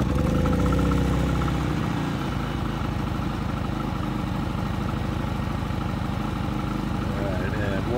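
A Harbor Freight Predator generator, 3500 or 4375 model, fires up at the push of a start button and settles into a steady, loud idle hum that fills the whole clip.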